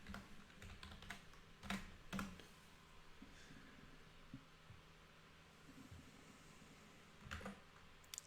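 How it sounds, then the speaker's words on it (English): A password is typed on a computer keyboard as a scatter of faint, quiet key clicks and taps, some grouped in quick runs, over a low hum. "So I'm just going to type that in."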